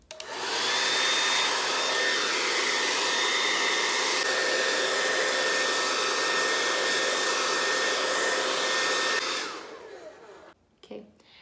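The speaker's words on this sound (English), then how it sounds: "I'm gonna go in with a blow dryer." A handheld blow dryer runs steadily at close range for about nine seconds while drying freshly applied glue on a wig cap, then switches off, leaving a few faint handling clicks.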